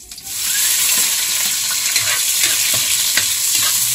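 Ginger and garlic sauté in a hot pan for chicken tinola, giving a loud, continuous close sizzle with scraping stirring noises and no voices.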